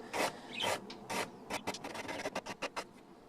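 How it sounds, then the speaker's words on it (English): Sandpaper rasps back and forth along the edge of a bass guitar headstock, a quiet close series of scratchy strokes that start long and turn into quicker, shorter passes. "This is where I found out the sandpaper is actually better at filing than the file."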